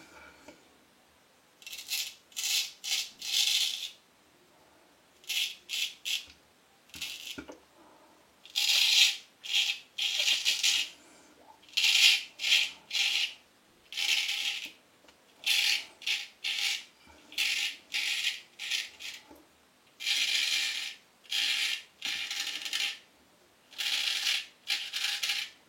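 Razor strokes scraping through a lathered beard at a barbershop shaving club, close and crisp, arriving in bursts of several quick strokes separated by short pauses, with no talking over them.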